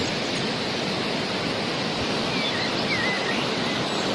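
Roro Kuning waterfall beside a pine forest, a constant broadband roar of falling water, steady and enveloping with no pauses, a faint bird call briefly above it.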